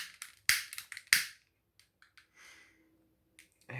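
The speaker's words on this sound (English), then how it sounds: "we're going to start off by lighting a candle" A lighter being struck to light a candle: a few sharp clicks and flicks close up, followed by a faint, quiet hiss of the flame, with no talking.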